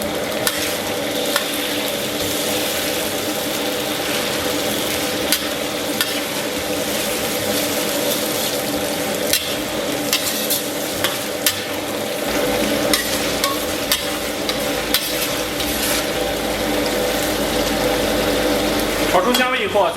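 Chili sauce and doubanjiang sizzle and fry steadily in a pot while being stirred, a continuous dense crackle with occasional scraping clicks of the utensil throughout.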